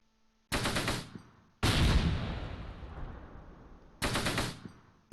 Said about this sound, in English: shooting the machine guns